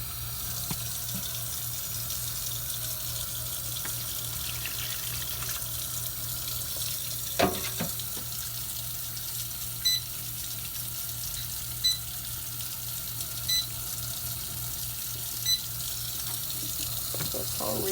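Steady, close rush of water running from a tap into a bowl, continuous throughout with a few faint clicks and knocks of handling, no talking.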